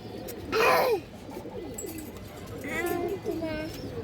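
A flower pigeon coos in a few soft, throaty bursts at close range, with someone talking over and around the calls.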